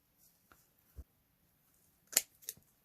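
Scissors snip through a pipe cleaner folded in half for a washcloth craft, a few soft scattered cuts with the sharpest crisp snips near the end, quiet and close with no talk.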